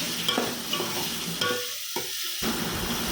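Chopped onion and fenugreek leaves frying in oil while being stirred, with a close sizzle and brisk scraping strokes that drop briefly into a muffled lull before resuming, heard alone.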